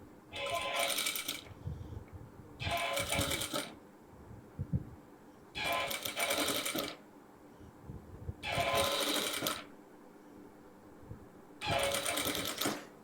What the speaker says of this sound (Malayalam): ഇതൊന്ന് സ്റ്റിച്ച് ചെയ്ത് വെക്കാം.